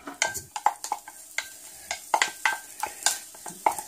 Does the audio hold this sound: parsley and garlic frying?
yes